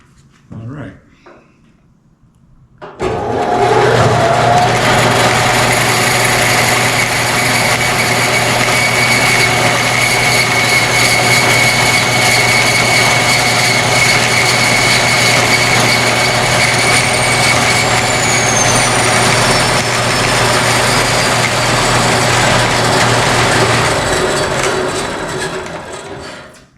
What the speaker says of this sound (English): before I turn the bandsaw on